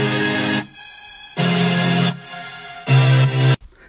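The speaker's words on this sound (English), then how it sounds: "the synths in the drop are actually all serum and an extra top lead" Bright, buzzy Serum synth lead chords in a drop, three loud sustained blasts separated by short, quieter gaps, ending abruptly.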